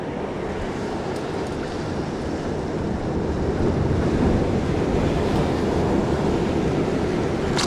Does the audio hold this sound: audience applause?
no